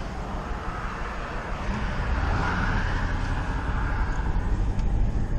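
Heavy road traffic near a house, with cars streaming past in a dense, continuous roar of tyre and engine noise that swells slightly midway, close and steady.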